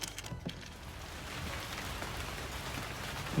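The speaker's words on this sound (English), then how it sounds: "I didn't think it was actively raining." Rain falls steadily during a dark early-morning walk, a soft, even patter with a few louder drops near the start, and no voices.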